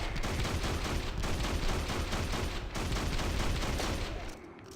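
Rapid, sustained gunfire from the video game Hunter: The Reckoning, a dense continuous barrage of shots throughout that cuts off abruptly near the end.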